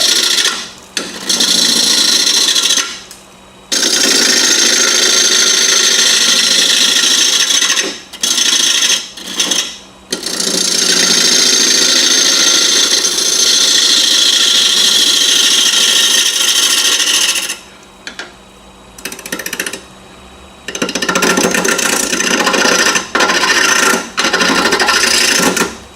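A gouge cuts a wooden bowl spinning on a wood lathe, producing loud, continuous rasping shaves in long passes broken by short pauses.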